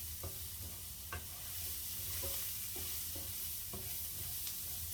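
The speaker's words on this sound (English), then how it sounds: "I'm just going to give that a quick stir around, being careful that it doesn't dry out on the base." Rabbit stew stirred in a pot, a utensil scraping and knocking against the base at irregular intervals over a soft sizzle, close and quiet.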